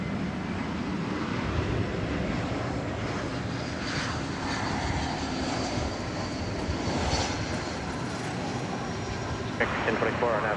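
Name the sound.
SkyWest American Eagle regional jet departing DFW Airport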